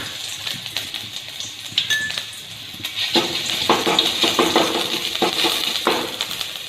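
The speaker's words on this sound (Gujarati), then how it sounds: "જુઓ, આપણું તેલ ગરમ થઈ ગયું છે। તેમાં આપણે લસણ અને આદુની પેસ્ટ" Garlic and ginger paste sizzles and crackles in a small amount of hot oil for vegetable momo filling. It is close and steady, with busier popping after about three seconds and no talk.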